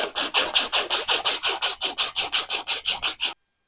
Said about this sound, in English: We're going to use some sandpaper to smooth that out.